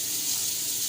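Saag greens are rinsed in a tub of water, heard as a short, soft, steady rush of running and splashing water at low volume.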